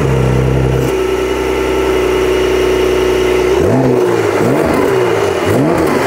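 A Porsche 911 Turbo revs loud and close through its exhaust, holding a steady high drone before dropping into several rising and falling throttle blips, with no voices.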